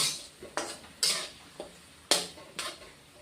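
A spoon or spatula scrapes and stirs spice paste being sautéed in a pan for a charapona fish poppy-seed curry, six distinct sweeps at irregular intervals, close and moderately loud over a faint hiss.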